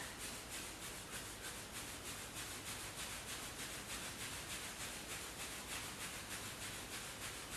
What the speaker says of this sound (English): rub the hands together, and then rub the back